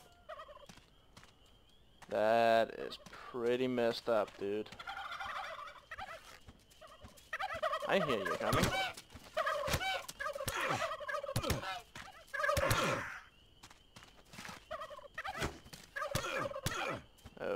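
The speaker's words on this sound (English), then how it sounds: "I just got attacked by a whole horde of infected turkeys." Infected turkeys in How to Survive 2 gobble in a horde, repeated gobbling bursts and thuds of combat coming in waves over a game soundscape, with someone talking over the noise.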